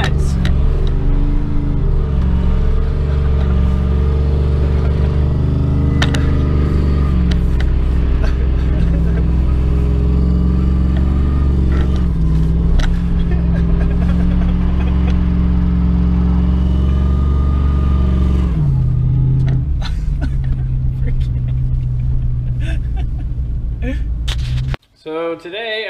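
Rear-drive Dodge Dakota pickup with a limited slip differential spinning donuts, its engine revving hard in a loud, continuous roar with rising and falling pitch, ending abruptly.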